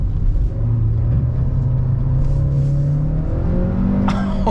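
A 2011 Volkswagen Polo GTI with a 180 hp engine and DSG gearbox revs hard at full throttle, a loud, close, sustained engine roar that climbs steadily in pitch before a brief shift-like break near the end.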